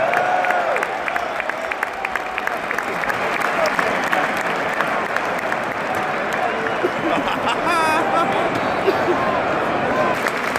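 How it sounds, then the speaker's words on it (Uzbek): Football stadium crowd applauding players leaving the pitch after substitution, a steady roar of clapping and crowd noise running throughout, with a commentator talking over it. "Ko'ryapsizmi, endi Doku uchib ketyapti, qanday olqishlar bilan kuzatib qo'yishyapti."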